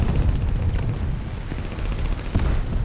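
Aircraft machine guns firing in War Thunder from a Hawk III fighter, heard as dense, sustained rapid fire with a roaring engine bed, loud and close throughout without pause.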